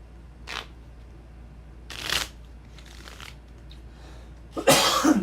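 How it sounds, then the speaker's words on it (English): Several sharp coughs from one person, close to the microphone: a short one, then a stronger one, then a loud burst at the end, separated by quiet pauses. "I just got this cough."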